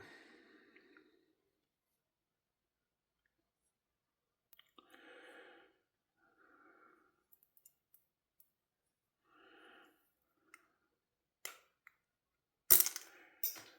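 A small metal washer flies loose during disassembly of a BRK Zancudo folding knife, landing with a sharp, bright clatter near the end after scattered faint clicks and breaths, in an otherwise quiet room.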